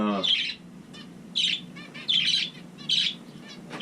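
Finches chirp in short bursts of high, buzzy twittering, about four calls spaced roughly evenly, close by, with nothing else in the background.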